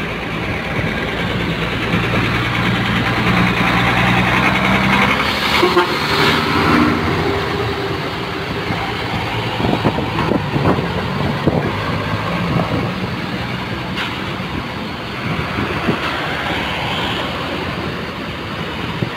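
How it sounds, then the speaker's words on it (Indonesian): A Litha bus engine on the Toraja–Makassar route rumbles loudly and steadily as a bus bound for Poso departs. A deep idling drone is joined by a couple of brief horn toots and passing traffic. "Bus tujuan Poso sudah berangkat juga."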